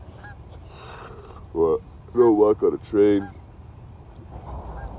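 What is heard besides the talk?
geese honking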